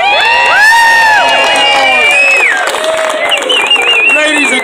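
A large crowd at an outdoor steampunk costume event cheers, whoops and applauds loudly and continuously, with high shrill shouts from many voices layered over steady clapping.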